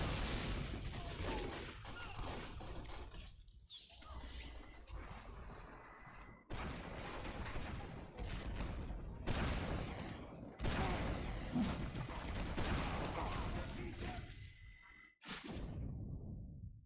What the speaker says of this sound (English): I'm gonna stop wasting all my health on useless rocket jumps and do rocket jumps